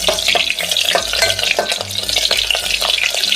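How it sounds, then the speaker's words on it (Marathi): Star anise, cinnamon, cloves and other whole spices sizzle in a hot pan, with a ladle stirring and scraping in a busy, uneven rhythm, close and fairly loud with no talk. "दोन नाकेश्वर एक बदाम फूल थोडंसं दालचीन हे छान हलक्या हातावर परतून घ्यायचं"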